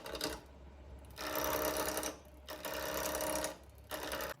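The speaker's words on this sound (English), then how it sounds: "So here I'm actually cutting an end grain, and so it's I'm getting a lot of noise on here." A woodworking tool cutting across the end grain of timber for a three-legged table, a loud, harsh whine in three long bursts separated by brief drops, with a steady low hum running underneath throughout.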